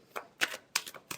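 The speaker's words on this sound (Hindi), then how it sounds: "Last shuffle." Tarot cards being shuffled by hand in four quick, soft riffling bursts, close and quiet.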